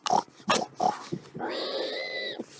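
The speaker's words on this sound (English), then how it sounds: "I can't get mad at a pig." A pig gives three short grunts, then lets out a long, loud, high squeal, close by and with no other sound around it.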